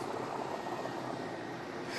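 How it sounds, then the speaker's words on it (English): An Mi-171 helicopter drops rappellers with dogs at an air force anniversary display, a steady broadband engine and rotor roar heard continuously from a distance, with no speech. "the rappellers making a tactical drop from the Mi-171 helicopter"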